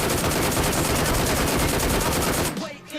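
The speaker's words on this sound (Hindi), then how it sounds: "अब भाई अचानक से फायर मेरे ऊपर होने लगा।" Sustained rapid automatic gunfire in the PUBG battle royale video game, aimed at the player from close range in a loud dense burst that cuts off abruptly near the end.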